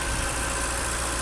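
BMW E30 engine idling, a close, steady low rumble with a faint irregular wobble in its tone over a brief stretch, no voices.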